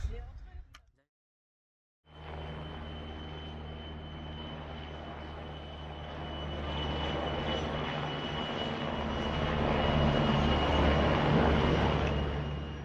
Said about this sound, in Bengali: একটা হেলিকপ্টার যেতে দেখলাম অ্যাম্বুলেন্স হেলিকপ্টার